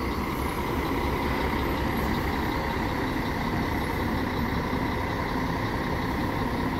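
An Andorinha intercity bus pulls into the Barra Funda bus station in São Paulo. Its engine gives a steady low rumble over the broad, constant hum of the terminal, with no voices.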